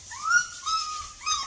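Rottweiler puppies whimpering close by, a few thin high-pitched whines rising and falling in quick succession, fairly soft with no talking over them.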